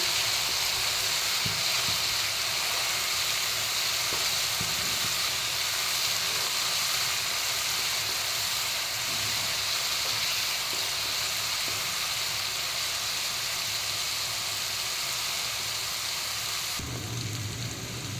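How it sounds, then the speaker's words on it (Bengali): Spice masala with chilli powder and salt fries steadily in a pan, a constant dense sizzle and hiss running unbroken throughout, close and even in loudness. "এটা ভালো করে আমরা মশলাটাকে কষিয়ে নেব"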